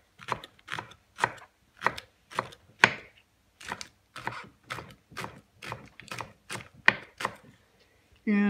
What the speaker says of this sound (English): cut the leeks up.